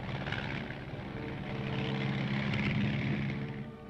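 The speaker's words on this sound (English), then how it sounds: "Among the aircraft used are the L-19, a standard observation plane" Steady drone of an L-19 observation plane's propeller engine flying past at moderate distance, swelling slightly in the middle and then easing. It is heard alone, with no voices.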